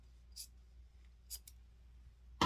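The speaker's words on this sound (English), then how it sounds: "you're going to take your scissors and cut on the ink line that you made." Scissors make a few quiet, separate snips as they cut quilt fabric for a mini kite quilt, with brief sharp cuts spread out and near silence between them.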